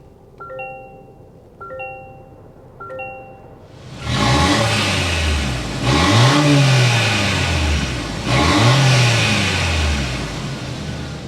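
A 2024 Toyota Grand Highlander's turbo four-cylinder engine cranks and fires after a few door-ajar chimes, then revs up three times in quick succession, each rise and fall of the exhaust note loud and close.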